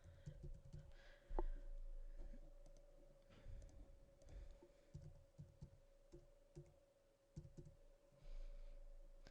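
Fingers type on a computer keyboard in a quiet room, producing faint, irregular clusters of light clicking keystrokes over a soft steady hum.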